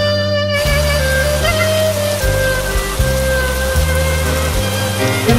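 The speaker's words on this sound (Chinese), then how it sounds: "有没有听到下雨的声音？" A rain sound effect gives a steady, dense patter of falling rain, mixed continuously under music with a rhythmic low bass line. Both play together throughout without any speech.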